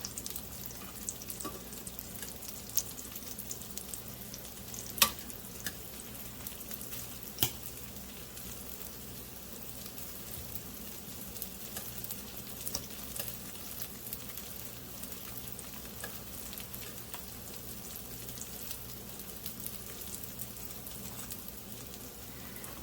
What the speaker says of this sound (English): So we will saute up all of this eggplant.